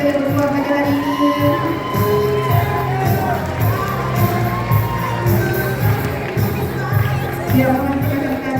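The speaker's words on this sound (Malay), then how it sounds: "Berikan tepukan kepada pemenang kita yang berpeluang pada hari ini." Crowd cheering and shouting at an outdoor land carnival day in Kuala Lipis, Malaysia, for a prize draw winner taking home a motorcycle, with children's voices, whoops and a loudspeaker voice over the steady crowd noise.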